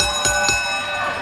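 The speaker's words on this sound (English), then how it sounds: "Let's ring the bell." Wrestling ring bell rung at the end of a Southern States Wrestling match, two quick bright metallic strikes ringing out in close succession over a steady background hum.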